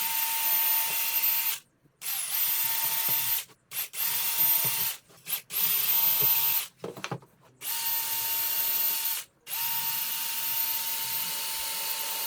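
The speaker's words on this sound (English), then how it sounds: "We'll do the drilling" A power drill whirs steadily in several bursts while drilling wood for a bird feeder, each run stopping briefly before starting again, close and loud with no talking.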